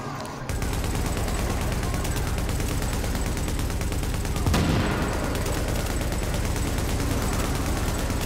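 Player's gun in The Division video game fires in sustained, loud automatic bursts that run almost continuously, with a heavier blast near the middle.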